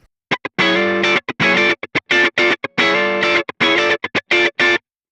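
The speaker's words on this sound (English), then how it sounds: "I don't mind the sound of this deluxe comp at all." Electric guitar played through the Deluxe Comp compressor on an HX Stomp, heard alone as a series of short, evenly spaced chords and notes with clean, sustained, compressed attacks.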